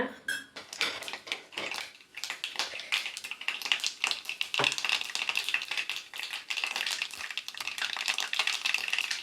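Mustard seeds spluttering and popping in hot oil while a narthangai pickle is prepared, a dense, continuous crackle of close, sharp pops with faint clinks of a utensil against the pan.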